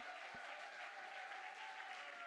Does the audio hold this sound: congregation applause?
yes